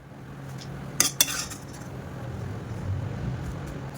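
Roasting potato-style slices for poha chivda are stirred in a pan, with two sharp metallic clinks of a spoon against the pan over a low, steady background hum.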